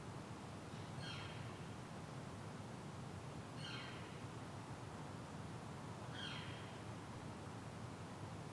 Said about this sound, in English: I don't know what kind of bird that is.